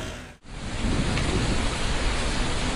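Monsoon rain pours down as a dense, steady hiss with low rumbling, heard close and continuous after a brief dip at the start, with no voices.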